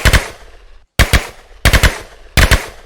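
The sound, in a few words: Vector gun firing in Minecraft gun mod, video game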